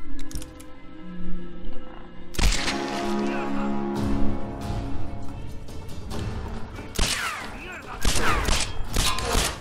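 Gunfire in the action game Tomb Raider Definitive Edition, with sharp shots cracking out at intervals over a busy game soundtrack and a voice speaking in between.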